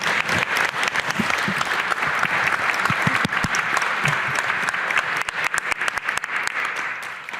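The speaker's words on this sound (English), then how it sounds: "How about a round of applause for Diane and Aaron?" An audience at a State of the City address claps together, a dense, sustained wave of applause that stays loud and steady before thinning slightly at the end.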